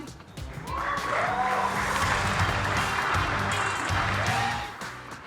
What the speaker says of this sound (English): Applause for Virat